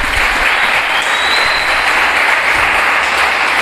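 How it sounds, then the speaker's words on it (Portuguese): An audience applauds during a church family service, a steady, dense wash of clapping that fills the room and continues throughout without a break. "Aleluia, dê um aplauso a Jesus."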